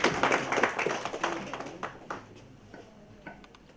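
Audience clapping at an evening event, loud scattered hand claps at first that thin out and fade into sparse, quieter claps toward the end.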